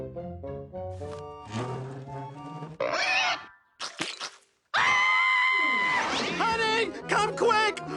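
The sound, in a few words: cartoon chair squealing like a pig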